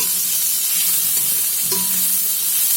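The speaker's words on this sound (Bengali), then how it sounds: "একটু ভেজে নিয়েছি লাল লাল করে চিংড়ি মাছটা" Steady, loud sizzling of shrimp frying in hot oil in a pan, with a faint scrape of stirring partway through.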